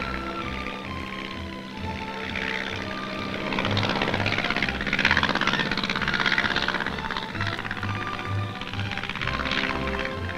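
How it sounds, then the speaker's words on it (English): An army artillery observation plane flies overhead on a spotting run over enemy lines, its propeller engine droning steadily and loudly throughout with a low pulsing beat, swelling slightly toward the middle. "Artillery observation planes fly over enemy lines"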